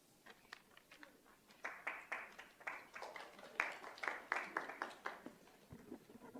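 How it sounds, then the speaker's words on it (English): An audience at a school district governing board meeting gives a round of applause, a moderate patter of many hands swelling and pulsing for several seconds in a room, with no talking over it. "Thank you for that round of applause."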